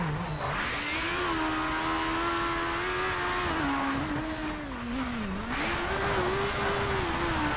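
A race car engine in Colin McRae: DiRT on the Pikes Peak course drones loudly and continuously, its pitch rising and dipping as it revs through gear changes with a steady high whine and no voices.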